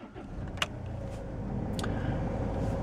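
A 2011 Land Rover Freelander 2 SD4 HSE automatic diesel is push-button started from inside the cabin: a brief click and rattle, then the engine catches and settles into a low, steady idle rumble, with no talking.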